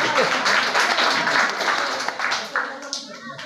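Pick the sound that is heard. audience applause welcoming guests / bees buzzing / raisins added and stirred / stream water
audience applause welcoming guests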